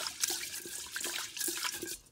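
Tap water runs into a pot while rice is washed for minced pork congee, a fairly quiet, continuous splashing stream with small drips and sloshes throughout.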